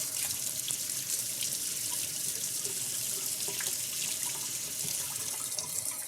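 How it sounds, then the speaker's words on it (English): A kitchen water tap runs steadily while a used spatula is rinsed off under it, giving a continuous close splashing hiss with small spattering changes throughout. "Grabbing a spatula that has already been used and rinsing it off"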